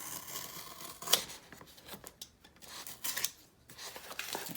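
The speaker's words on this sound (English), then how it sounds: "take my box cutter and cut the cover off" Box cutter blade slicing and scraping through the cardboard cover of a Dollar Tree book, a close, irregular rasping with a sharp snap near the start and several short bursts of cutting.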